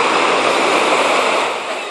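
Steady broadband roar of surf washing in at Playa de los Muertos, loud and close, continuous with no talk over it.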